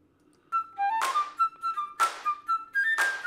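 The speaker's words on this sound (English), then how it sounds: "More flute right here." A solo flute track from a multitrack plays a short stepping melody of clear sustained notes, punctuated by several sharp percussive hits at regular intervals.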